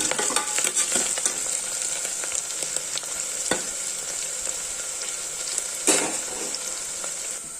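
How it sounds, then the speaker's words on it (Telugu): Onion pieces fry with salt in a pan for a bottle gourd curry, giving a close, continuous sizzle. Scraping stirs and light utensil taps are scattered throughout. "ఈ ఉల్లిపాయ ముక్కలు గోల్డెన్ బ్రౌన్ కలర్లో రావాలి, వచ్చేంత వరకు వేయించుకోవాలి"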